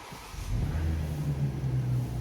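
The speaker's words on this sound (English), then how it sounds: "let's have a listen to the cold start of this vehicle" A BMW X7 40i M Sport's inline-six petrol engine cold-starts: a quick crank catches into a loud, steady low rumble that holds at elevated idle.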